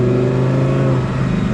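An Italdesign Zerouno supercar's engine revs loudly and close by in a steady, sustained roar with strong low harmonics, no voices over it.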